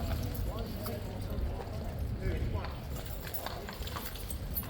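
King's Guard horses' hooves clip-clop on a wet, drizzly day, a steady run of overlapping hoofbeats from several horses under a background of voices.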